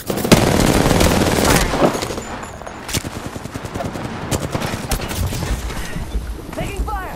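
Rapid bursts of video game gunfire crackle loudly from close by, with an RE-45 pistol among the weapons, dense at first and then in scattered volleys, with shouted game voice lines over the shooting.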